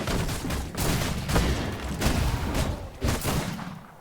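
Rifle gunfire from enemy riflemen in the vampire survival game V Rising, a series of loud repeated shots and bursts spread across the moment, with dense battle noise filling the gaps.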